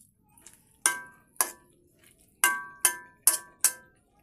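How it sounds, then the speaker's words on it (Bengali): A metal spoon clinks sharply against a cooking pot about six times in an uneven rhythm while chopped garlic and gourd greens are stirred, each strike close and bright with a quick ring-off over a quiet background. "বন্ধুরা, ঢাকনাটা খুলে রসুন কুচি দিয়ে দিয়েছি। দিয়ে এবার ভালো করে নাড়বো।"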